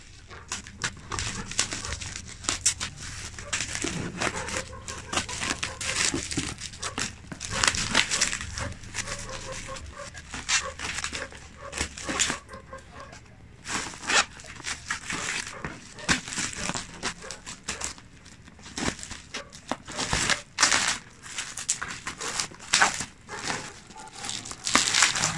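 Plastic wrapping on a sealed delivered package crinkles and crumples in irregular bursts as it is torn open, fairly faint and close, with a few soft handling knocks.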